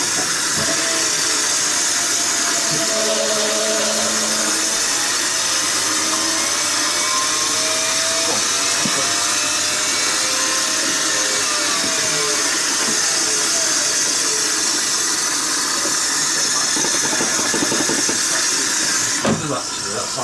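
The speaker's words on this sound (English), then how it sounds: "Spin dryer." A 1970s Indesit L8 380rpm washing machine runs its spin-dry cycle with a continuous loud whirring hiss and whine, steady and unbroken from start to finish.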